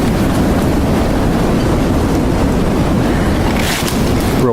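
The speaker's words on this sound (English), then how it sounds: "Real windy day too." Strong wind gusts roar steadily through a viney creek-bottom forest, a loud, unbroken broadband rush buffeting the microphone for the whole stretch, with no voices.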